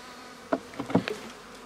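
Many honey bees hum inside a hive feeder rim, a low, dense buzz with short louder swells as individual bees pass close.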